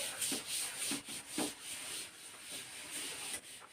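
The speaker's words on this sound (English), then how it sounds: "So let me rub this all." A classroom board being rubbed clean with an eraser, giving a series of soft, close swishing strokes in an uneven rhythm, with no talking.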